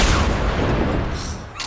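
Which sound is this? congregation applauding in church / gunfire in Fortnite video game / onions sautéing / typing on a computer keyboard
gunfire in Fortnite video game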